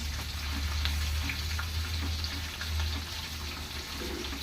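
Dried red chillies fry in oil for a chutney, giving a constant, fairly quiet sizzle with a low hum running underneath.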